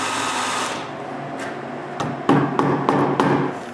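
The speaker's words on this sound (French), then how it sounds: "je perce des petits trous pilotes" A drill boring small pilot holes into the wooden frame of a homemade band saw, a steady whirring that fades, followed by a quick series of sharp knocks and bumps against the wood.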